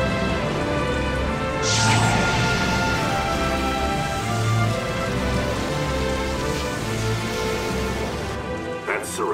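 Steady, dense rainfall hisses throughout at constant loudness, with a low rumble and brief swells layered over it, in an animated dubbed scene.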